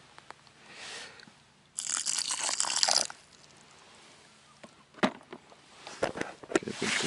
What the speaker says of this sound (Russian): Добавляю капельку воды.